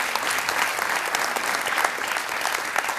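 An audience at a Punjabi stage play applauds loudly for the writer and director, a steady, dense wash of clapping running unbroken throughout.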